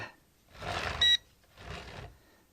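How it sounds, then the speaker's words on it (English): A short, sharp electronic beep from a Potensic D58 camera drone without GPS lock rings out between two bursts of rustling handling noise, close and clear. "I think that beeping is just because there's no GPS on it at the moment"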